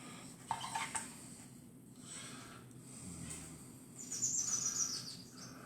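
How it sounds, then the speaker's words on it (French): Birds sing outdoors in thin, scattered chirps, with a brighter, louder trill toward the end, over a steady low background hum. "Ah, les oiseaux, moi j'adore."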